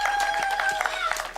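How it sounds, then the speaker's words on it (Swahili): A crowd applauds at a live Kenyan news event after a speech on land title deeds, a busy spatter of clapping running beneath a speaking voice throughout. "Makofi tena."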